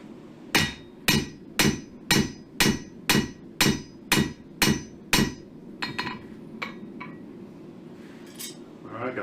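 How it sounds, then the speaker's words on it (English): About ten sharp metallic hammer blows ring out in a steady rhythm on a hot square steel bar being forged, close and loud, then a few lighter taps trail off. "hit it with the face of the hammer, take the marks out, flare even more."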